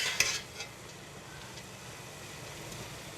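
Chopped leek dropped into hot oil for a creamy leek and potato soup, a sharp burst of crackle and a clatter at the start, settling into a soft steady sizzle.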